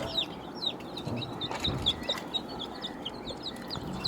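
Chickens and roosters in a pen before feeding cluck and squawk repeatedly in short, overlapping calls against a noisy outdoor farmyard background.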